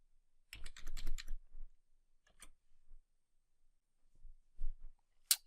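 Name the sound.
typing a command on a computer keyboard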